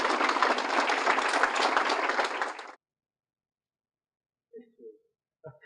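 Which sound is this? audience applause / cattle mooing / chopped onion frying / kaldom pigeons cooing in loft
audience applause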